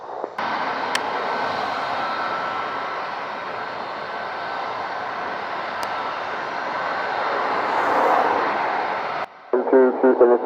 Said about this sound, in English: The aircraft departing from Charlie.